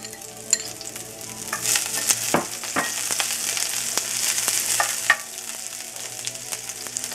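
Lemongrass sizzles loudly in hot vegetable oil in a pan, a dense close hiss punctuated by sharp scrapes and clicks of stirring.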